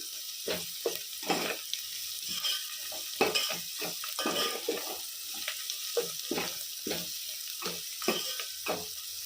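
Spices such as ajwain and pepper frying in a pan, with repeated irregular scraping strokes of a spoon over a faint sizzle.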